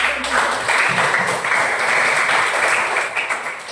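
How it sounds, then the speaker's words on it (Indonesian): Steady applause from a classroom audience after a group presentation, loud and continuous for several seconds, thinning slightly toward the end. "Kita beri aplaus dulu buat"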